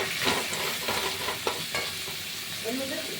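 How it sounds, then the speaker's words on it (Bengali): Cumin and garam masala powders are stirred in a hot frying pan, giving a continuous close sizzle with soft scraping strokes throughout, for a Bengali prawn biryani. "প্রথমে একটু নেড়ে নেবো।"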